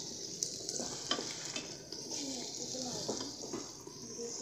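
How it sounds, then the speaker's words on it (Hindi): Onions fry in oil in a cooker for saag gosht with a steady, fairly faint sizzle, and a few stirring knocks sound over it. "प्याज को 4 से 5 मिनट पकाएंगे हम"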